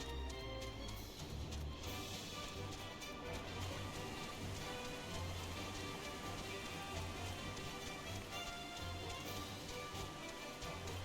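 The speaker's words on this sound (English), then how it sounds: "Seems to always be raining in this area." Rain falls steadily in Final Fantasy XIV, a constant hiss with low rumbling underneath and a few sharper taps, with no one speaking.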